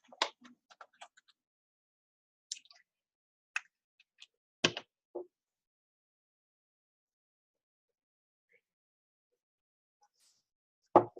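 Drops of essential oil, five of citrus blend, fall into a small container being mixed for a cleaner. Faint isolated ticks and plops come in a few scattered clusters, separated by long silences.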